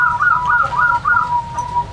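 Zebra dove (perkutut) cooing nearby, a clear repeated series of soft, rounded, pitched coos in a steady rhythm against a low background rumble.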